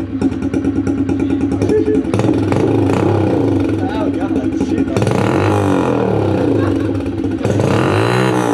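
A Honda CRF110 dirt bike engine runs loudly and close, with a steady buzzing idle and a few revs, while people talk over it in a garage.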